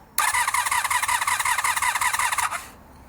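A cafe racer motorcycle engine with a no-start fault cranks over rapidly with a rhythmic, buzzing pulse for a couple of seconds, close and loud, then stops without catching.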